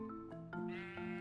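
A Minecraft sheep bleats several times in quick succession, short wavering cries heard fairly quietly over a steady low background hum.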